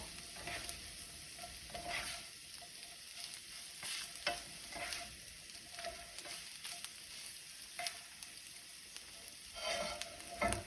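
Four eggs cook keto style, scrambled in a pan: a soft, faint sizzle runs under repeated scraping and stirring strokes, with no one speaking.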